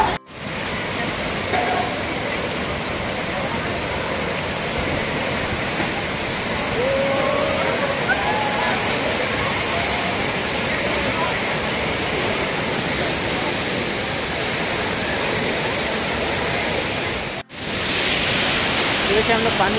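Kempty Falls in Mussoorie roars as a constant broadband rush of falling water heard up close, loud and unbroken, with a brief dip near the end.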